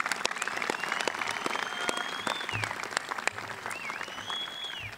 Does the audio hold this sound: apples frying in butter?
no